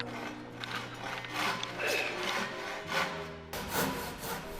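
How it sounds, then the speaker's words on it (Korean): A hand saw cuts through wood in traditional carpentry, in steady back-and-forth strokes, rasping rhythmically and fairly quietly over a low hum. "아들의 톱질을 지켜보는 보유자."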